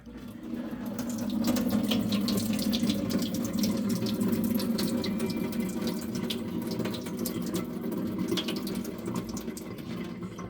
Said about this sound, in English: Normally, it's a good idea to wash your produce before leaving, but we did have a kitchenette sink.